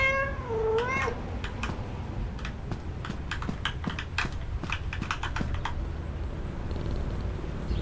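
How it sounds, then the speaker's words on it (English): A cat meows with a rising, warbling call in the horror game FNAF: Into The Pit, followed by a long run of rapid clicking and tapping under a low steady hum; no voices are heard. "Pet the kitty."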